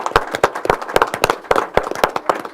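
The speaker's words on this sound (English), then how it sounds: "Let's give these girls a big round of applause" Loud, close applause at a county board of supervisors meeting as two girls are honored: dense, irregular clapping from a roomful of people, sustained throughout with no talking.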